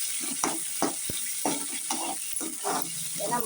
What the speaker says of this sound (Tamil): சின்ன வெங்காயத்தை போட்டு நல்லா வதக்கணும்